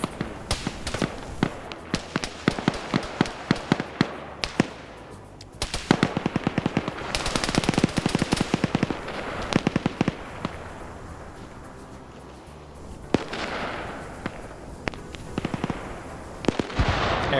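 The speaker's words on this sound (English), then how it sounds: "Air burst grenades." Air burst grenades going off in a PvP shooter, a dense run of sharp cracking pops in quick clusters, loud and continuous with brief lulls, no talking.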